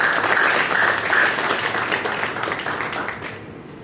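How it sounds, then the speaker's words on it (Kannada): Audience applause following a call for a big round of clapping at a Balusa Online Shopping event, steady dense clapping that stays loud for several seconds before gradually thinning and fading toward the end. "ಅದಕ್ಕೊಂದು ದೊಡ್ಡ ಚಪ್ಪಾಳೆ ಬಲಸ ಆನ್ಲೈನ್ ಶಾಪಿಂಗ್"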